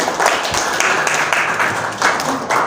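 Students in a class applaud two classmates after a presentation on mobile app development tools, a fairly loud, steady round of clapping from a small group with a few sharper claps up close.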